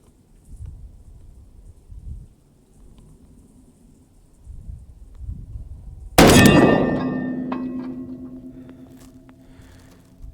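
A Savage 110 bolt-action rifle fitted with a replacement stock fires a single loud, sharp shot partway through, and a ringing decay trails off after it; soft low rustling and handling noises come before the shot.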